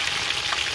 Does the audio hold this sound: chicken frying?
yes